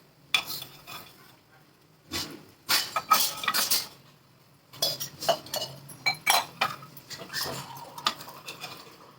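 A metal spoon clinks and scrapes against an appe pan as cooked egg appe are lifted out, giving irregular bursts of sharp clinks with short pauses between them and no talking.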